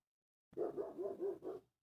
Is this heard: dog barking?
yes